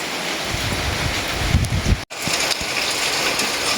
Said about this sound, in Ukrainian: тихо-тихо йде дощик.